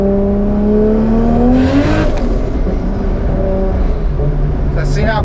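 A turbocharged car engine revs up hard with a rising whine that climbs steadily, then breaks off into a rushing burst near the midpoint before settling to a lower hum; loud and close.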